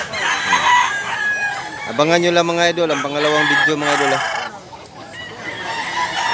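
Tethered roosters and hens at a farm in South Cebu, one rooster crowing loudly in a long harmonic call mid-clip while other chickens cluck and call around it, with someone speaking over the birds.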